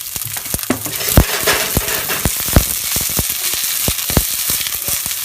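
Onions sweat in olive oil in a pan, giving a steady, close sizzle broken by frequent sharp pops and crackles, with no voices.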